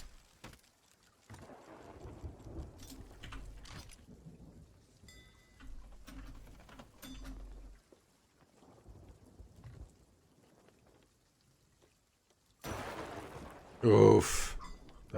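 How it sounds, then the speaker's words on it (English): Thunder from a lightning strike in a sea adventure video game booms loud and close near the end, following stretches of rain, wind and players' chatter. "You get hit by lightning again."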